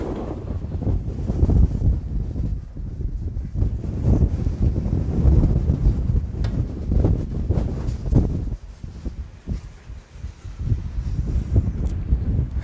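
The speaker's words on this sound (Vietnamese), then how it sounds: "Vì tầng 8 cho nên gió khá là to." Strong wind on an eighth-floor concrete rooftop roars and buffets the microphone in continuous loud gusts, briefly easing before rising again.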